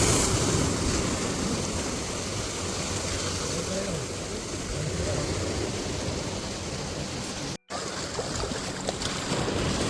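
Surf rolls in at Anjuna beach in Goa, a quiet, rocky stretch of shore, as a steady, full wash of waves with no clear breaks, dipping only for a brief instant near the end.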